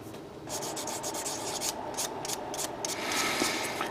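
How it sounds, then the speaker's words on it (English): Scratchy, rhythmic sanding strokes rub against small plastic parts of a 1/100 Kampfer model kit, close up, in short repeated bursts with no talking. "right now I'm finishing up sanding some of the parts here that makes up the Kampfer"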